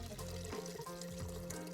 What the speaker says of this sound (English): you want to slowly and carefully pour all the liquid through the sieve